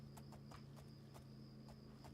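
Horse hooves clip-clop at a steady walking pace in the video game The Elder Scrolls IV: Oblivion, each clop sharp and close against a constant low ambient hum, with no talking.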